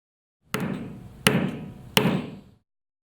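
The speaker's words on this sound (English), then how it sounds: "put it back in the tool and tap a few more times with a hammer" A hammer strikes a fabric covered button tool three times at an even, unhurried pace, each sharp knock ringing briefly before fading, with quiet between the blows.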